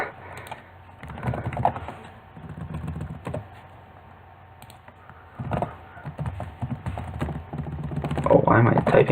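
Someone types on a computer keyboard while playing a Pokémon battle match, bursts of close clicky keystrokes spread across the clip with a person talking over them.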